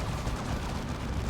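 Dense, continuous battlefield gunfire from turrets and units in the real-time strategy game Dawn of War 2: Retribution, a loud steady barrage of overlapping shots with no pauses.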